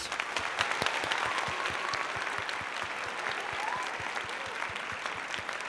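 Dense, steady applause from a group, even and continuous across the whole stretch at moderate level with no voices standing out.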